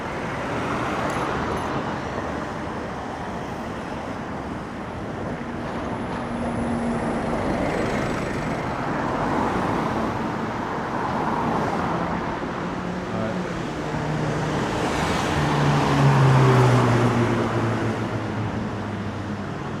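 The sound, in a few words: London street traffic noise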